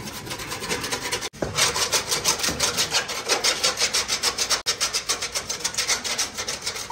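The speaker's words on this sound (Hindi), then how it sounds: "जो इस तरह के दाग नहीं उतरे उनको हल्का सा रगड़ लेते हैं छुरी वगैरह से" A knife blade scrapes stains off the surface of a cooler in fast, continuous back-and-forth strokes, loud and close, with two brief pauses between passes.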